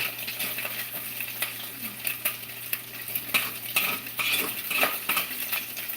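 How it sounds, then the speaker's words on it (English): A spoon stirs a spoiled egg into scrambled egg in a pan, giving repeated light clinks and scrapes against the pan over a soft, steady sizzle of frying. "turn it into a scrambled egg"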